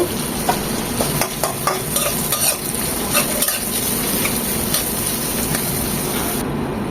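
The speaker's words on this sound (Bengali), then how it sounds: "দু চামচ আদা কুচি এটাও বিশ সেকেন্ড একটু ভেজে নেব দিয়ে দেবো একটা পেঁয়াজ কুচি" Chopped ginger and onion frying in a pan for chicken fried rice: a steady, close sizzle throughout, with a utensil stirring and scraping against the pan at irregular moments, no talking.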